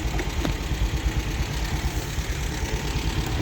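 A red MGB's engine idles steadily up close, a continuous low rumble with a faint knocking pulse and vibration running throughout, with no voices.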